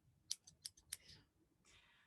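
Several sharp snaps from collapsible scissors being flicked open, a quick run of four crisp clicks close to the microphone followed by a softer rustle and a final snap.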